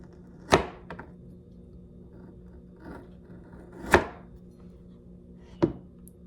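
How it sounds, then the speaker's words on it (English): A knife cuts through a log of chilled candy corn butter cookie dough in three sharp, close thunks against a cutting board, widely spaced with quiet between each slice. "you want to slice them in 1/4-inch slices"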